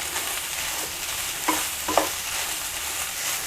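Cooked rice is stirred into an egg masala in a pan, giving a steady soft frying hiss with a couple of faint spoon scrapes, close, no talking.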